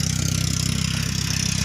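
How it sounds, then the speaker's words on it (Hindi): A tractor engine running at a steady idle, with a close, even, low throbbing pulse and no voices. "this is there tractor running"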